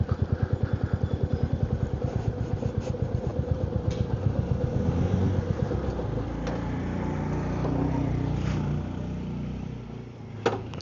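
A motorcycle engine idles with a rapid, steady thumping beat. It then settles into a smoother, fuller running hum, with a clunk near the end. The sound is close and continuous, and no one speaks.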